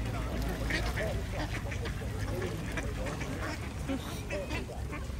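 Ducks at a lake quack repeatedly while being fed, a busy chorus of nasal calls at close to mid distance over steady outdoor rumble, with people talking in the background.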